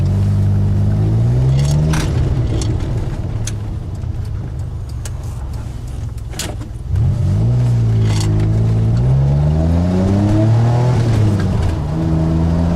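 A 1981 DeLorean DMC-12 with its Renault engine driving, loud and close, revving up through the gears with rising pitch sweeps, a brief dip and gear change midway, then climbing again.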